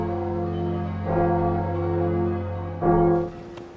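Large bells ring out in a Game of Thrones scene, sustained tolling tones that swell with two louder strikes and long ringing decay, heard alone without speech.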